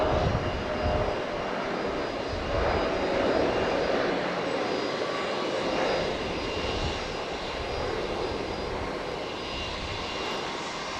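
An American Airlines jet airliner at Logan Airport at night makes a continuous, broad engine roar at moderate distance that swells and eases gently as it moves, with no talk over it.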